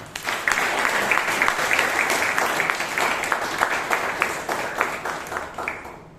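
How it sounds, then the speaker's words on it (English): Audience applause at a Toastmasters club meeting in Bangalore, steady dense clapping from a roomful of people that holds for several seconds before tapering off at the end. "we need to give a huge round of applause both to the speaker, Toastmaster Hitesh, and Madam Toastmaster Hannah"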